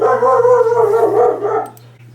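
A dog barks and howls in one loud, drawn-out, wavering yelp at close range, with no talk over it.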